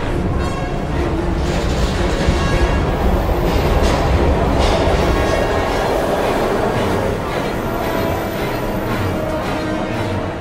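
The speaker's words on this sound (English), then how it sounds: "We've got to get on that train, Ethan. It's our only chance" A train rumbles past in the video game Heavy Rain, a loud, dense, continuous roar with rhythmic rail clatter and metallic ringing that eases slightly toward the end.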